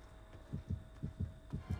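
A Dead by Daylight heartbeat warning thumps as low, muffled double beats, about four pairs in steady rhythm over a faint constant hum, with no voices.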